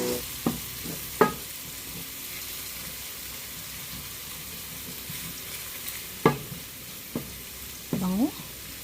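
Ground garlic and onion sauté in butter with a steady, close hiss, punctuated by several sharp scrapes and knocks of a utensil against the pan.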